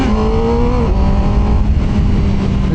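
A CFMoto 500SR inline-four motorcycle engine revs steadily up close, its pitch climbing briefly then settling into a sustained high drone with no one speaking.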